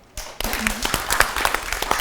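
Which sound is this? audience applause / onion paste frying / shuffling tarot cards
audience applause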